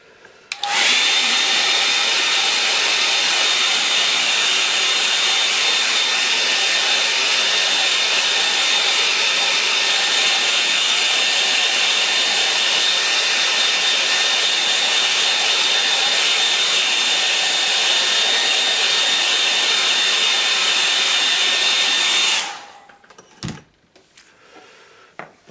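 A hair dryer blows steadily and loudly on a painting of an estuary scene at dawn for about 22 seconds, with a constant whine, then cuts off abruptly, leaving a few faint clicks.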